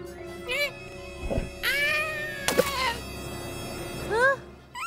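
A cartoon cat meows several times in short, rising and falling calls, fairly close and clear, with gaps of quiet between them.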